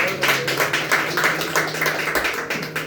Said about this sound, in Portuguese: e as palmas sobre o Senhor